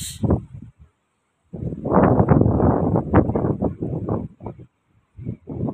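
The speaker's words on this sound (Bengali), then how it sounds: "অনেক বাতাস" Strong wind on the Clifton Suspension Bridge in Bristol buffets the microphone in loud, low rumbling gusts, with a short lull before the roaring returns and a final fainter gust.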